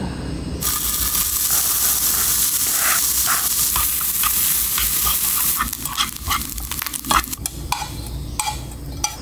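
Shrimp frying in butter over a camp stove at a campsite, a steady close sizzle and hiss with occasional stirring and utensil clicks, no talking.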